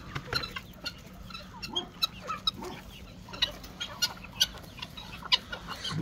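Village hens and other poultry on a Turkish farm cluck and peck in a quiet, scattered stream of short calls and ticks, fairly close by, with no one talking.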